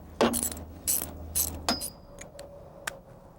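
Socket wrench with a 6-point socket working a corroded exhaust manifold bolt on a MerCruiser 3.0L boat engine, giving a few sharp metallic clicks and creaks followed by a faint lingering ring, close and alone.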